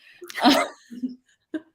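One sharp, close human sneeze, a quick breathy burst, followed by a short spoken reply.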